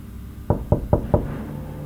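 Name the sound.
police knocking on the door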